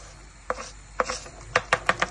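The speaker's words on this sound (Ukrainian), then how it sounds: "Тремо два зубчики чеснику." Sharp, crisp scraping strokes of two garlic cloves on a grater, a few isolated passes then a quicker run of four or five, close up with no talking.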